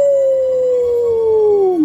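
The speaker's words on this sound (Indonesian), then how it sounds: "Raja Serigala melihat ke langit dan melolong lagi." A wolf king gives a long, loud, clear howl on a single sustained tone that sags downward at the end, used as a story sound effect.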